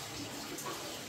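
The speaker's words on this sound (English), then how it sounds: "I'm going to take some water out of the 55 gallon." Water is drawn out of a 55 gallon aquarium, a quiet continuous trickling and splashing with faint bubbling, heard close and soft with no talking.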